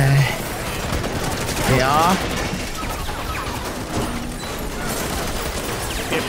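Gunfire rattles in Spider-Man Remastered, with dense, continuous shooting like a running firefight through the city. Someone says a word briefly over the shots.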